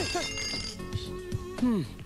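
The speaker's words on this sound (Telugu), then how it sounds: "పగిలింది. సౌండ్ వింటుంటేనే అర్థం అవుతుంది. ఏం పగలగొట్టింది? Flower vase." A flower vase breaks with a sudden glassy shatter near the end, a short bright crash standing out over tonal background sound and faint voices.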